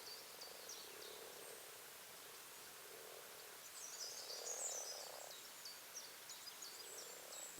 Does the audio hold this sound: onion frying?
no